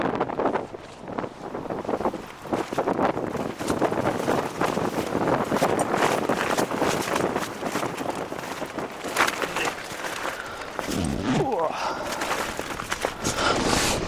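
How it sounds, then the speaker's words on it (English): Stormy wind roars continuously around a wild-camping tent at night, buffeting the fabric and the microphone with steady, loud gusts and no pauses. "just listen to this wind for the rest of the night"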